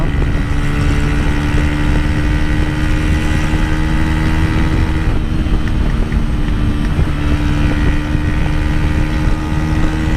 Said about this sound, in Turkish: Aa bir tane daha motorcu gidiyor.